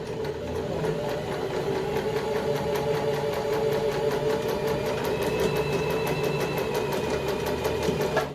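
A Janome 2008s household sewing machine stitching forward under pedal control: a continuous close mechanical whir with rapid even needle ticking, steady and unbroken for several seconds, with no voices.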